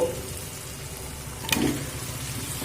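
Pre-fried chicken sautés in masala over a medium flame, a steady low sizzle with one brief clatter of a utensil partway through, close and unaccompanied by voices.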